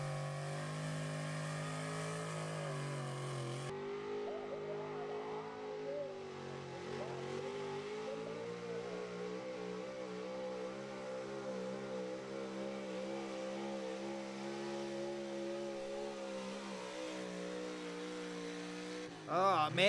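A pulling truck at a truck and tractor pulling event roars at full throttle through a long hook, its steady, loud engine note climbing and wavering as it strains forward, then cutting out abruptly at the end.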